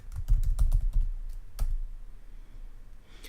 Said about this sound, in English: you would begin typing the dialogue